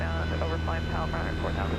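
A Cessna 172 engine runs at full power in flight, a loud steady droning roar with a pulsing throb, heard from inside the cabin under a person talking.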